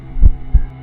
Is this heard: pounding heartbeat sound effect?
yes